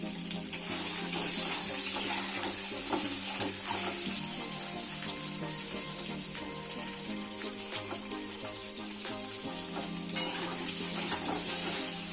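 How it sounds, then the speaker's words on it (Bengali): An egg fries in hot oil with turmeric and salt for an egg curry, making a constant, close sizzling hiss with faint spatters, steady from start to finish. "আর কি একটু হলুদ গুঁড়ো দিয়ে আর নুন দিয়ে ডিমটাকে ভেজে নিচ্ছি।"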